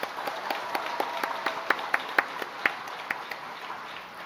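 A church congregation applauds for a women's parish group, a steady patter of many hands with sharper individual claps standing out, moderately close and sustained for a few seconds.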